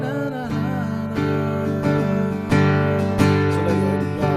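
Chords moving from the fifth chord to the one chord of a new key while modernizing the hymn All Creatures of Our God and King, several sustained, ringing chord changes played clearly and fairly loud without talking.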